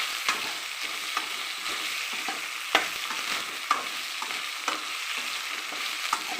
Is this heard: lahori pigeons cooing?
no